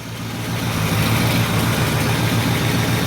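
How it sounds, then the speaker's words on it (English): A 1968 Ford XL with a slight exhaust leak at the front idles nearby, a loud, steady, rumbling engine drone with a throbbing pulse, no talk. "Still a little bit of an exhaust leak in the front."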